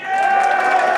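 Concert crowd at a band's set at the Live With Full Force festival roars with sustained cheering and applause, a dense, loud wash of voices and clapping from start to end.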